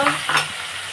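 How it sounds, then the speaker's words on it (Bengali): Chopped tomato frying with whole spice seeds in a hot pan for a Bengali potato dum, giving a close, steady sizzle with a couple of quick stirring scrapes in a single second. "টমেটোটা ভেজে নিচ্ছি ফরমের সাথে"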